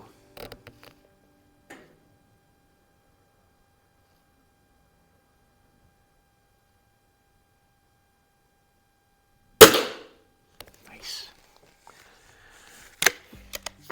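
A Cometa 300 .177 break-barrel air rifle firing pellets: mostly quiet with a few faint clicks early, then one sharp loud crack near the end followed by lighter mechanical clacks and a second sharp snap.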